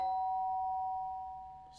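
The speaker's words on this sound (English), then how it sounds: "The sound of the doorbell forced its way through." A doorbell chime in the video game Danganronpa: Trigger Happy Havoc rings once as a clear sustained tone that slowly fades, fairly quiet and heard alone.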